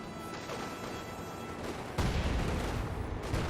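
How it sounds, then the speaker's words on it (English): A landmine detonates in Company of Heroes 2, a sudden loud boom that jumps out over the ongoing rumble of battle gunfire and rolls on with heavy low crackle. "Good landmine detonation."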